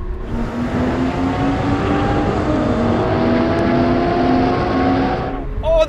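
Roaring engines build steadily as a Porsche 911 GT3 and Porsche 911 Turbo S cars accelerate hard in third gear, a loud sustained drone with rising tones that fades slightly near the end.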